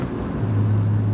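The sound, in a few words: BMW E36 straight-six engine exhaust note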